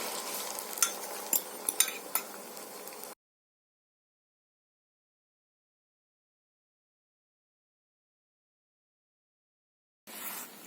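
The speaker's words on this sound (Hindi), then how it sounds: "मुझे यहाँ अंडा फ्राई करना है" Beaten eggs sizzle and crackle in hot oil in a wok for a few seconds, with sharp scraping taps of a stirring utensil, then the sound cuts to silence before briefly returning.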